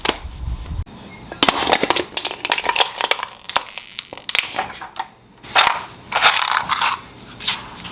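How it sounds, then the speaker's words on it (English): Aluminium soda cans crushing under a person's full body weight, several loud crunching, crackling bursts in irregular clusters, close up with short pauses between them. "So I can put all my weight on the can as long as I don't wiggle too much."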